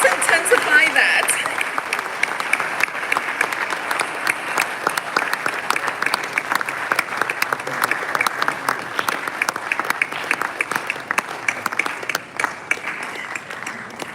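Audience applause at the opening of the Ghana Horticulture Expo, a sustained crackle of many hands clapping throughout, fairly loud and swelling slightly at the start.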